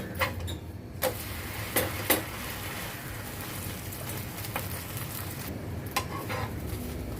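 Oil sizzling around a fasting dosa on a hot pan as it is flipped, a steady close hiss broken by a few sharp clinks of the spatula against the pan, with no talking.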